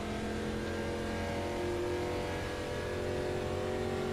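A NASCAR Gen 4 stock car idles at about 2,000 RPM in iRacing, a steady, even engine drone with a constant low tone, moderately quiet and heard alone without interruption.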